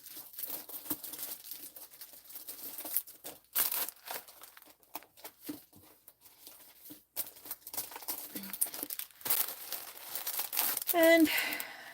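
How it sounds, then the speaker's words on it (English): Paper envelopes handled up close, soft crinkling and rustling in bursts with brief pauses, quiet and intimate, a voice talking over them at times. "I have envelopes."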